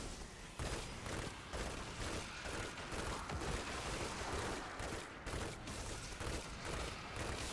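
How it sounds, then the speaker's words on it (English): Engrams in Destiny 2 explode inside a cave, giving a dense, continuous barrage of booming blasts and crackling detonations that stays loud throughout with no pauses. "these engrams here, they're just gonna keep exploding"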